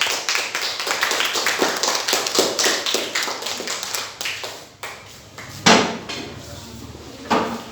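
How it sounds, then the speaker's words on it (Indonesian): Classroom applause for two students, a burst of many hands clapping in a quick uneven patter that thins out, followed by a few scattered louder claps. "Beri tepuk tangan untuk Rika dan Davina."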